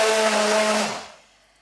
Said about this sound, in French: Et maintenant, je vais mixer.